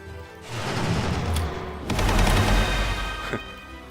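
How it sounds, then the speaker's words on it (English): Bolter gunfire in Magicka, a dense crackling volley of shots in two loud bursts with booming impacts, no speech. "Just discovered that my bolter actually isn't that useful. It seems to shoot over their heads."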